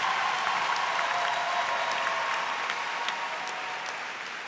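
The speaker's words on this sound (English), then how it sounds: "we clap it up for that" An audience applauds at a high school graduation ceremony, a broad, steady wash of many hands clapping in a large hall that holds strong throughout and eases slightly toward the end.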